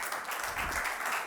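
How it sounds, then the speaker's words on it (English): A brief burst of steady audience applause at a hospitality industry conference, a dense wash of clapping from a crowd with no voices over it. "keep the applause coming"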